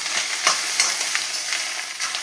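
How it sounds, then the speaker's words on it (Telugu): Egg noodles stirred in a frying pan, with a steady soft sizzle of frying under light scraping and tossing strokes at an irregular rhythm, close and alone. "ఇవి జాగ్రత్తగా కలుపుకోవాలండి"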